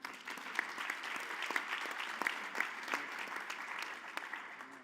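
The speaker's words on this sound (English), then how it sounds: "let's give Charlotte some applause here" An audience at a conference event applauds a violinist, a steady sustained round of clapping from a sizeable crowd that carries on evenly for several seconds.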